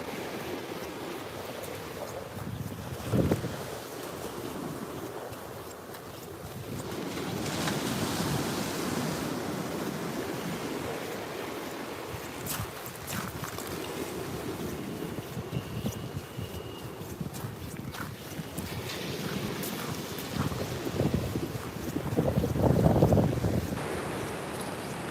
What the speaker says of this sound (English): Apart from a bit of wind,